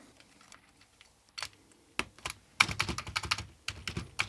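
Typing on an Amiga keyboard fitted with new A1200.net keycaps, close clicky keystrokes that start sparse and quiet and then quicken into a dense, louder run of taps.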